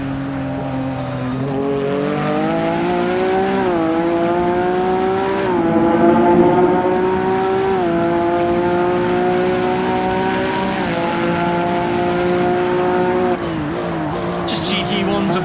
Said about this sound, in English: Could barely hear that over the car.